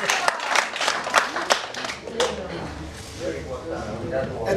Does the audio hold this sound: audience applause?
yes